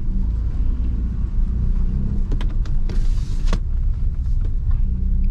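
A car creeps up a slope on a narrow street in first gear on light throttle, giving a low steady engine rumble with a few faint clicks and rattles, close by and without talk.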